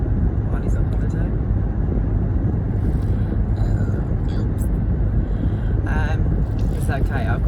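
A car interior hums with steady road and engine rumble as it is driven along, continuous and fairly loud while the driver talks over it.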